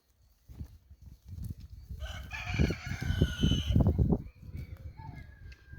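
A rooster crows loudly over about two seconds, with chickens clucking and rustling nearby before and after, outdoors at dusk.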